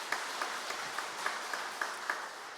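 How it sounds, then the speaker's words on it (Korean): A church congregation at a prayer meeting claps after a worship song, a steady wash of applause with a few sharper claps standing out at a regular beat. "하나님께 영광과 감사의 박수를 올려드리겠습니다."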